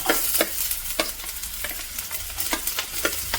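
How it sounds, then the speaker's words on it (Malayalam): Sliced onion sautés in beef fat in a pan, stirred with regular scraping strokes, roughly two per second, over a steady sizzle. "ഇതിലേക്ക് നമുക്ക് കട്ട് ചെയ്ത് വെച്ചിരിക്കുന്ന സവോള ഇട്ട് കൊടുക്കാം"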